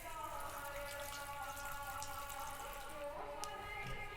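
Water is poured into a pot for an herbal home remedy, a steady trickling stream with a rising tonal ring as the vessel fills, fairly quiet and unbroken.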